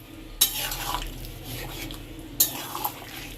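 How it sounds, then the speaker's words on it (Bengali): Egg and broccoli curry with tomato being stirred in a pan after sugar goes in, two sharp metal scrapes of the spoon over a low, continuous sizzle. "ভালো করে মিশিয়ে দেওয়া হচ্ছে।"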